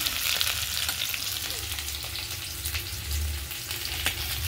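Fenugreek greens fry in a pan as they are stirred, a steady close sizzle broken by scraping strokes and light knocks, with a low hum underneath and no voices.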